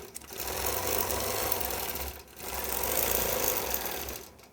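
A longarm quilting machine stitches a gentle curved meandering line along a quilt's sashing, a steady loud mechanical whir that dips briefly once, then resumes until near the end.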